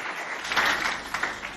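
Audience applause from students at a school event in Doba: a short, steady wash of clapping at moderate loudness, rising slightly midway.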